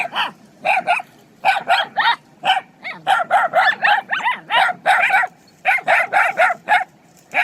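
Puppies yip and bark in quick, high-pitched bursts, many short cries in irregular clusters, close by and fairly loud.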